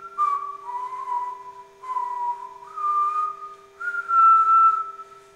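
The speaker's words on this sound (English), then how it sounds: "Whistling." A person whistles a sequence of sustained, sliding pitched notes in short phrases, clear and close with brief gaps between them and no other sound.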